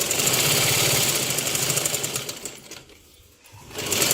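A sewing machine stitching a blouse side seam, a fast close rhythmic whirring run that slows and briefly stops before starting up again.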